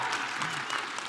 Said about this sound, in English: Round of applause for Casey Foster.